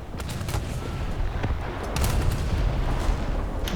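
Battleship main guns firing in War Thunder during a naval battle, a dense rumbling barrage of repeated booms and blasts that swells louder midway and keeps going for several seconds without talk.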